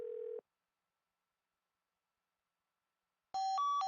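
Telephone dialing tones from a phone in the Nancy Drew: Secret of the Scarlet Hand game: one short steady tone, a long silence, then a quick stepping pair of beeps at the end, clean and alone.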